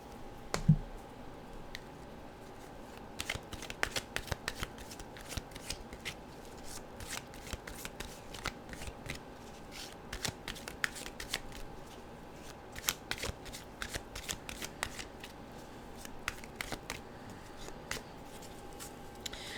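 Playing cards riffled and bridged repeatedly in short crisp bursts, close and fairly quiet, with soft clicks and pauses between shuffles; no talking.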